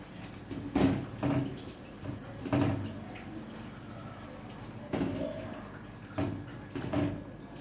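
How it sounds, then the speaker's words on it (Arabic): Water poured from a cup over a Damietta-style shrimp dish, coming in several short splashy bursts separated by quiet gaps, close and fairly soft. "وهنزل عليها كوبايه ميه"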